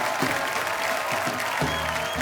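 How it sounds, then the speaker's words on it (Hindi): A TV comedy show's studio audience breaks into loud, sustained applause, dense clapping filling the room while the crowd welcomes the team onstage. "एक बार जोरदार तालियां कुछ रंग प्यार के ऐसे भी पूरी टीम के लिए"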